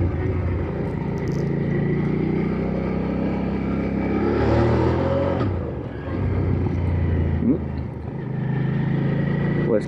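A Hyosung GV650 Aquila cruiser motorcycle accelerating on an open road, a loud steady engine drone heard from the rider's position, with wind noise, swelling and easing with throttle and a gear change.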